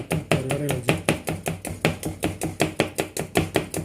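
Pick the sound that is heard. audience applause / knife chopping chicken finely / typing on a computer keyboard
knife chopping chicken finely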